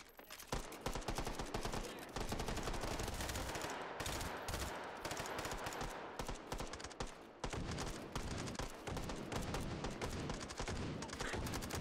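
Dense, loud gunfire from the VR shooter Hot Dogs, Horseshoes & Hand Grenades on HTC Vive, with rapid overlapping shots and bursts running almost nonstop, briefly thinning out once before resuming.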